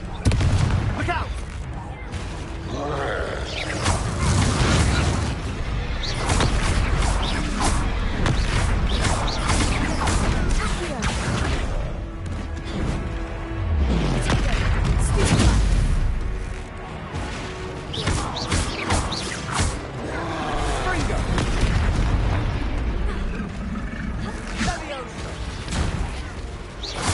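Confringo spell explosions in the Hogwarts Legacy video game, repeated booms and crashing impacts over a dense battle din, with voices shouting throughout.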